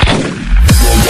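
In the 8 Ball Pool mobile game, a cue strikes the ball with a loud, punchy knock followed by a brief collision, heard close and alone.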